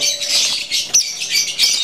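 A green leafbird (cucak ijo) in its bathing cage gives sharp, bright squawks and chirps close by, with a louder burst near the middle amid fluttering and splashing movement, and no voices.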